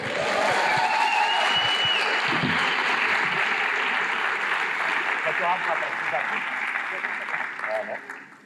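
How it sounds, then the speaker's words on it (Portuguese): Sustained applause from a large audience at a live event in São Paulo, dense and steady, with voices mixed in, gradually thinning and fading near the end. "Recebam com muitas palmas, Vitor Fontana!"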